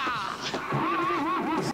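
A horse in the movie Krull gives a loud, close whinny with a wavering, rising and falling pitch that lasts over a second, heard alone.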